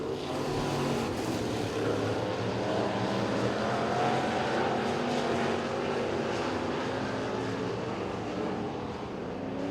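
Factory stock race cars in a dirt track heat race roar past at a distance, and several engines drone and surge together in a continuous, moderately loud rumble with no talk over it.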